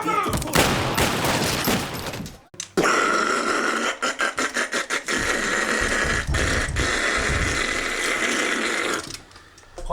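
Gunfire on a staircase during a film shoot, rapid bursts of automatic-style shots in dense rattling volleys with brief gaps, loud and close, with faint voices in between.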